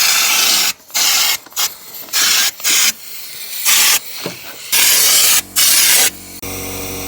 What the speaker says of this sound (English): just so you can see where I'm spraying in, all in this wing, all up here, all in here as well